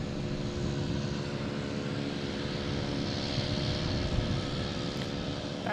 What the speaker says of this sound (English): The Emirates A350-900 coming in from Dubai